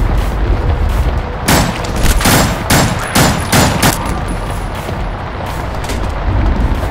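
Gunfire in the zombie shooter No More Room In Hell comes as a rapid series of loud, close shots, about a dozen sharp bursts in quick succession with heavy booming echoes between them.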